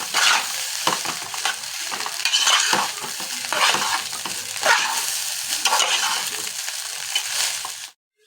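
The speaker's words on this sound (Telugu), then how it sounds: "ఇలా హై ఫ్లేమ్లోనే కలుపుకోవాలి లో ఫ్లేమ్లో కలుపుకుంటే రైస్ మెత్తగా అవుతుంది" Egg rice is stirred in a pan over high flame, with repeated loud scraping and tossing strokes over a busy sizzle that stop abruptly at the end.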